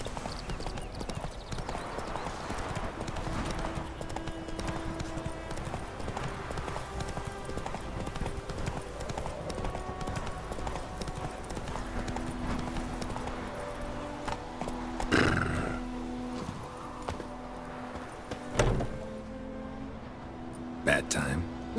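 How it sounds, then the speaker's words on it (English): Steady hoofbeats of a galloping horse in The Witcher 3 video game, a continuous rapid clip-clop under game music and spoken dialogue, with a couple of louder thumps near the end. "Run, Roach"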